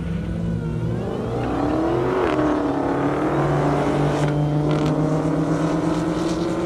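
A 1,000-horsepower Toyota Supra accelerates hard down an airstrip at a half-mile drag event, its engine note climbing steadily in pitch as it pulls away, loud and continuous with no talk.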